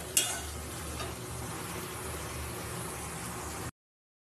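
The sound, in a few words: frying okra and potato curry with mustard paste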